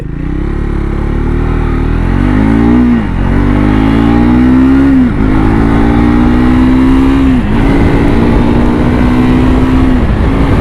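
Triumph Scrambler 400X motorcycle pulling hard from first gear, its engine note climbing loudly through three rising sweeps with brief dips at each gear change, close and continuous with no talk.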